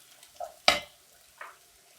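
Curry leaves drop into a pan of browned onion frying in hot oil, setting off one sudden loud spattering crackle between a couple of softer, faint sizzles.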